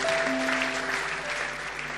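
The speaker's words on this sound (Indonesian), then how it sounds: "Kita beri tepuk tangan untuk kebenaran ini" A congregation applauds steadily during a church sermon, a dense, even wash of clapping that holds throughout, with faint sustained tones beneath it.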